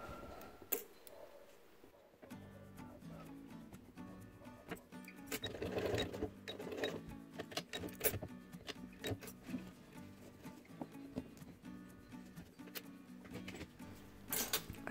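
A sewing machine stitches fabric for a DIY organizer with clear pockets, running in quiet bursts of rapid mechanical ticking that start and stop, with short pauses between runs.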